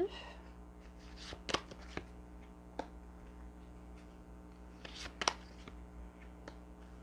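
Tarot cards being shuffled for a Gemini love reading, a soft steady riffle with a few sharper card snaps, close and quiet, no talk over it.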